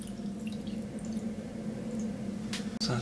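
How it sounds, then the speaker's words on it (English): Water runs and drips steadily to rinse acid etching solution off a metal surface. A soft, close flow continues throughout, with a brief splash near the end. "Rinse that straight away."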